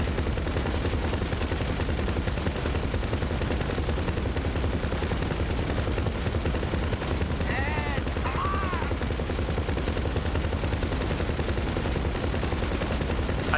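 Sustained rapid gunfire in GTA Online, a dense continuous rattle of shots with a steady engine drone underneath, loud throughout with no pauses.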